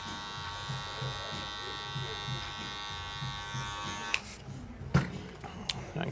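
Electric hair clippers buzz steadily at a barber's chair while a big beard is shaped with a light, floating blade; the even hum runs for about four seconds and then cuts off, leaving soft handling thumps and a brief clack.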